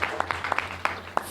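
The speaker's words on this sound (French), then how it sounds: "Je voudrais véritablement que vous les applaudissiez encore davantage," Audience applauding graduates at a closing ceremony for 1,400 young people trained in digital terrestrial television trades, with sparse, scattered claps standing out over a steady low hum, fairly quiet and distant.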